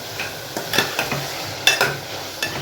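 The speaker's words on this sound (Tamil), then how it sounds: "ஸோ இப்போ வெங்காயம் தக்காளி வதங்கிட்டுருக்கு." Onions and tomatoes sautéing in a pan as the base for a mutton gravy, a steady soft sizzle broken by several close scraping stirs of a utensil against the pan, with no talking.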